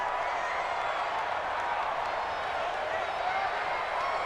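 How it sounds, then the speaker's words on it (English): Steady stadium crowd roar from Madden NFL 20 during an Eagles at Falcons game, a dense continuous wash of cheering and applause building toward a big third down, with no clear breaks. "the crowd getting into it as we come up on a big"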